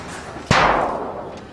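A high-speed robotic hand throws a ball, giving one sharp thump and a whoosh that fades over about a second.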